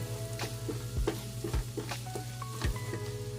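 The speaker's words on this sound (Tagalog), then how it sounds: "Pagluto ng garlic guys, hindi kailangan na talagang ano brown na brown." Garlic fries in a pan with shrimp and oyster sauce cooking nearby, a soft steady sizzle broken by regular spatula scrapes and taps close up, with no voices.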